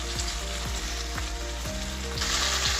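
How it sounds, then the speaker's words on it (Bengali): Tomatoes and peas fry in hot oil, giving a steady, close sizzle that runs the whole time, with a spoon or spatula scraping the pan several times in an even rhythm. Faint background music plays underneath. "তো দেখো আমার টমেটোটা ভালো করে ভাজা হয়ে গেছে"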